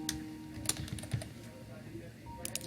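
A password is tapped out on a computer keyboard, a few quick faint key clicks in short clusters against a quiet low background hum.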